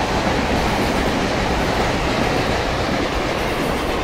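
Train passing on a curve in Indian Train Simulator, with a Rajdhani Express hauled by a WAP-7 locomotive: loud, steady rolling rumble and dense clattering of wheels on track, continuous throughout with no talking.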